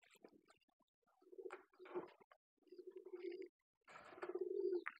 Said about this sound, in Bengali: এই যে ভিতরে খাঁচা। এর সাথে আছে ঘুঘু।